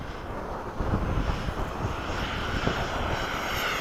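Freewing 90mm F-22 RC model jet making a pass at a flying field at sunset, a steady loud turbine-fan roar that swells slightly as it goes by, heard alone without talk.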